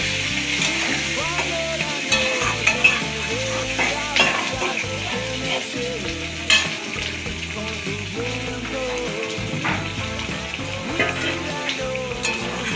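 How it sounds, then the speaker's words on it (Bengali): Pointed gourd (potol) sizzles loudly in hot oil in a pan, with repeated spatula stirs and scrapes over a continuous close frying hiss and little talk. "পটলগুলো দিয়ে আমি একটু নাড়িয়ে নেব।"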